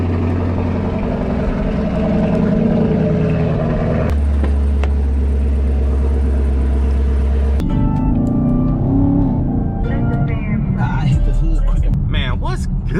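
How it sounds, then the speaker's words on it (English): Chevrolet Camaro SS/ZL1 V8 with stock MPP exhaust starting cold: a loud, deep engine rumble that shifts to a lower idle around four seconds, then a rougher, choppier tone later, with someone talking throughout. "the last stock MPP cold start."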